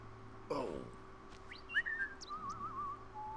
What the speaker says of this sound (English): That whistle sound effect is so weird.